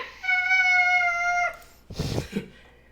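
A single long, drawn-out cat meow, loud and close, followed by a brief burst of rustling noise.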